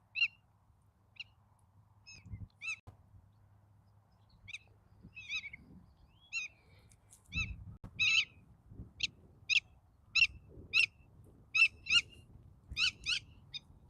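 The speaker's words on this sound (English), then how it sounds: "Got some birds flying around." Birds call at Packery Flats park on Padre Island, a series of sharp repeated chirps that grow denser toward the end, fairly faint over a quiet outdoor background with occasional low rumbles.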